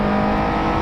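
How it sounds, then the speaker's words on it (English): Race car in an endurance championship qualifying session at a United States Grand Prix event, engine accelerating hard out of a left-hand corner, a loud, close, steady droning roar with no voices over it. "Accelerating right out."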